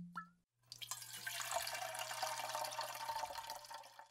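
Melon-flavored beer foams heavily as it is poured. After a brief tone, a steady close fizzing, splashing stream runs on continuously, with a low hum underneath.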